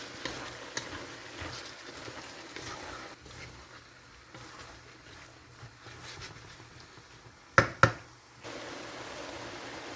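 Chickpeas and bamboo shoots being mixed into a beef tripe curry, heard as a soft continuous sizzle with faint stirring, then two sharp knocks of a utensil against the pot near the end, with no talking.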